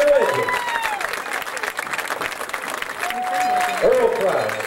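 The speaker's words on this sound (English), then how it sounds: "Let's give all these men, a big round of applause." Crowd applause in the stands at a high school football game, broad clapping with scattered cheers and background voices, steady and fairly loud throughout.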